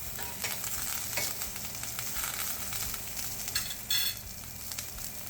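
Halibut sizzling in a hot pan with rosemary and thyme, a steady crackling fry with bright spitting pops and a few stirring scrapes, close and continuous with no talk.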